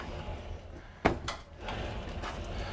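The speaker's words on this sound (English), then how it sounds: "Coming into the actual bathroom area, so we've got another pocket door here." A pocket door slides in the bathroom of a 2020 Renegade Valencia 35MB motorhome, with a sharp knock as it starts, then a short rolling slide and a light bump, close by over a faint hum.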